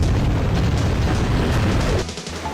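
Rumbling, crashing destruction of a building being knocked down in the Rampage Total Destruction monster game, a loud sustained low roar of collapse that drops off sharply near the end.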